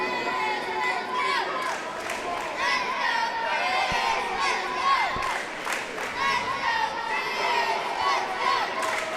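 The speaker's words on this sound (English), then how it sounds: "The Rustin crowd trying to urge Chris Anthony back on." A large Rustin crowd at a live match cheers and shouts continuously to urge on Chris Anthony, a dense roar of many voices with children's yells rising and falling throughout.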